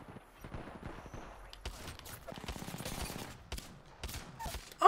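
Shotgun fire in Apex Legends, a run of rapid gunshots amid a busy firefight, with quick bursts, clattering footsteps and a loud close blast at the end.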